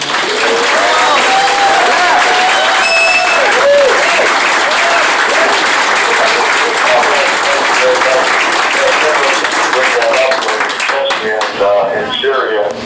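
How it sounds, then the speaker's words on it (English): Loud, sustained audience applause at a Tea Party caucus meeting, thick continuous clapping with crowd voices and cheering mixed in, thinning out toward the end. "I want these people to give you a special round of applause for that reason only."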